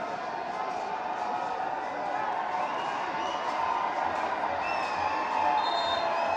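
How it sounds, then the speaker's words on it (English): A football stadium crowd cheering for Paro FC at an AFC Challenge League preliminary-stage match, a broad, continuous roar of voices with a commentator's talk running over it. "A lively bit of presence out here in the crowd as well."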